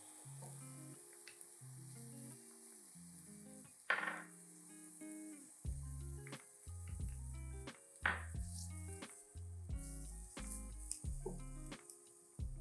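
Garlic and jalapeno sizzling in a pan for a chorizo and white bean dish: a steady, hissing fry with occasional stirring clinks, heard under background music.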